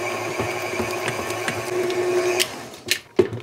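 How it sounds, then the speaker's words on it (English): A stand mixer kneads bread dough with softened butter in a steady, whirring mechanical hum with faint rhythmic thumps, close and moderate, ending in a few clunks, with no talk. "Now we're gonna let this mix for about 10 minutes."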